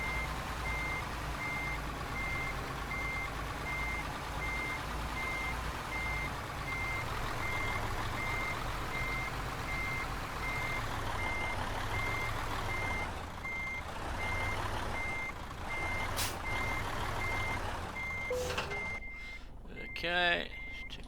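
A truck's reversing alarm in a driving simulator, steady evenly spaced beeps repeating over a low engine rumble for most of the stretch before stopping near the end, with someone talking over it.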